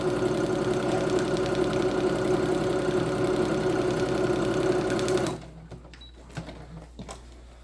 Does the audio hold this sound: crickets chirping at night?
no